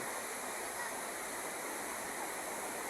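Strong current on the Angat River, fed by water from Angat Dam, makes a steady, unbroken rush of broadband water noise at moderate distance. No voices are heard.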